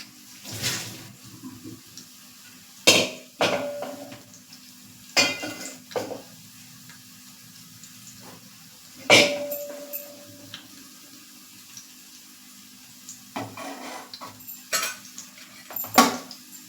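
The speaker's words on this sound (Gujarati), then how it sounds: "આ રીતે કાળાવાળા વાસણમાં નીકાળી લેશું" Cooked pasta is moved into a black pot in a home kitchen, with scattered clinks and clatters of a utensil against the pot and brief metallic knocks amid quiet gaps.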